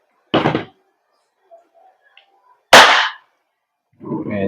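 WE Glock 17 Gen 5 airsoft gas blowback pistol firing two sharp, loud cracks about two seconds apart, each with a brief clack of the slide, in a quiet room.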